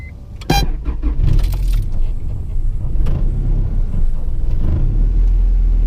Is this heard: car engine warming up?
yes